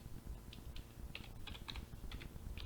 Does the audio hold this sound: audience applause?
no